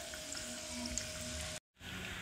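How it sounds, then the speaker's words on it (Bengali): Spinach singaras fry in hot oil with a steady, soft sizzle and bubbling that drops out briefly before resuming. "সিঙ্গারাগুলো ভাজা হয়ে গেছে, এবার আমি আস্তে আস্তে এক এক করে তুলে নেব।"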